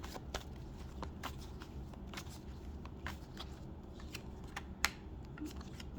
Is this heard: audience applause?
no